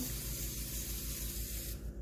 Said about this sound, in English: All right, now with the sponge, you want it to be nice and wet. So I'm gonna spray it down